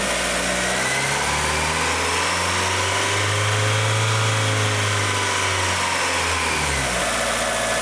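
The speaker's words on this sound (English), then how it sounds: "Now it sounds really good. It's up to temp, the thermostat's open." Near and steady, a Mazda Miata NA engine idles at operating temperature, its running note rising and falling gently with no voices over it.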